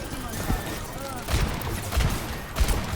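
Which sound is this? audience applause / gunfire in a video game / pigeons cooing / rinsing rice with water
gunfire in a video game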